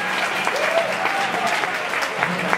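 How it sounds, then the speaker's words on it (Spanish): Brief burst of applause and cheering from a rock concert audience at a festival show, loud and close, with a voice briefly rising over the clapping. "Un fuerte aplauso para la banda"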